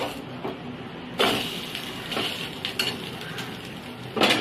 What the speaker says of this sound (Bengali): এটা ঘুরিয়ে দেবো, এই পাশটা ভাজা হবে।